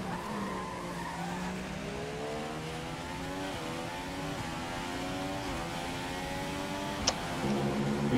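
An F1 2015 race car at Silverstone slows into the pit lane, its engine tone sweeping through falling and rising pitch steps as it downshifts, with a brief sharp click near the end, moderately faint and steady.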